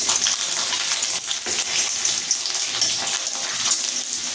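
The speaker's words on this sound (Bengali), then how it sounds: "রসুনটা হালকা ব্রাউন করে ভেজে নেব।" Garlic frying in mustard oil with fenugreek seeds in a pan, a steady loud sizzle and crackle running throughout with no talking.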